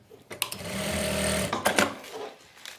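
A domestic sewing machine runs a steady stitching burst of about a second and a half while sewing a narrow salwar seam, framed by short clicks and handling noises before and after.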